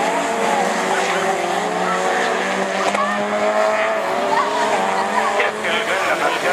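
Rallycross cars, among them a Honda, race around a sunny Lessay circuit in a division 4 event, engines droning loud and continuous with squealing tires and a crowd murmur beneath.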